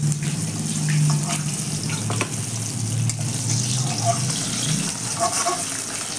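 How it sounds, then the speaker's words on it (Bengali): Fish fries in oil in a pan with a loud, continuous close-up sizzle and crackle that stays fairly even throughout, with a low background hum. "এইভাবে করে ভাজবেন। হয়ে গেছে ভাজা।"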